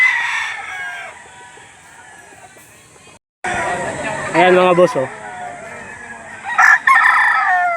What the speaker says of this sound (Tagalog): Ito yung mga manok na dala ng mga tagaliliw mga bossing.